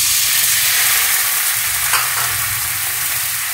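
Water poured into a hot pan holding chicken residue hisses and sizzles loudly and steadily, a close, continuous frying sound with no voices.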